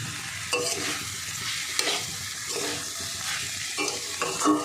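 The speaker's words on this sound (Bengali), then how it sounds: "এবার এই মশলার সঙ্গে আমি চালটা ভালো করে কষাবো মানে ভাজা ভাজা করবো একদম" Raw rice tossed and stir-fried with spices in a pan for hilsa pulao, giving a steady close sizzle broken by repeated scraping stirs, no voices present.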